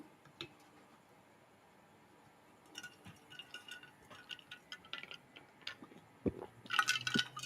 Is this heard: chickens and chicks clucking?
no